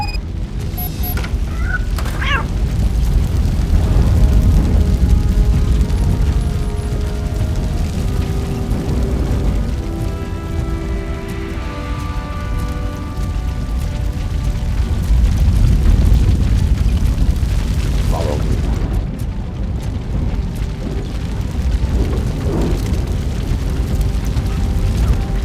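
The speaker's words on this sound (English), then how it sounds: "Fire is blocking the way." Fire burning in RoboCop: Rogue City, a loud continuous roaring rumble with crackling bursts and low booms, sustained close by and swelling in waves, with no talk.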